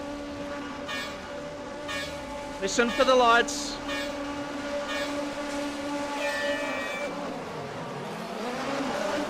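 Several stock car engines in a racing video game at Interlagos hum and rise in pitch together at a steady drone, with a voice speaking briefly over them.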